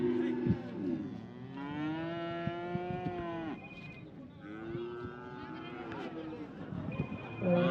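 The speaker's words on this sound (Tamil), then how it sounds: "நாட்டு மாட்டு கண்ணு" A newborn native-breed calf at a busy cattle market gives repeated long, drawn-out moos, loud and close, with people talking around it throughout.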